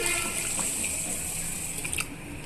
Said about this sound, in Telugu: ఇప్పుడు మంచినీళ్ళు పోసుకొని